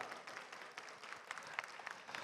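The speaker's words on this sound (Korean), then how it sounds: "여러분 박수 부탁드립니다" An audience applauding at a 2023 industry-academia cooperation expo recruitment event, a brief, faint, steady patter of many hands clapping with no voices over it.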